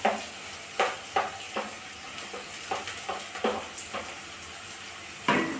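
Onion, ginger and green chili fry in a pan with a continuous close sizzle, punctuated by repeated sharp scraping and stirring knocks at an irregular pace.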